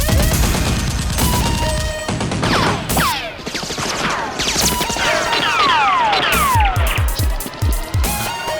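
Toy Nerf guns firing in a mock police and SEAL team battle, a dense burst of rapid popping shots and clatter overlapping continuously with whooshing darts and busy action effects, loud throughout.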